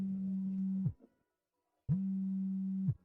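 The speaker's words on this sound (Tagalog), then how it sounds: "Tumutunog ang telepono ko." A phone ringtone rings in a Filipino drama scene, two identical steady electronic tones about a second long each, separated by a short pause, clear and alone.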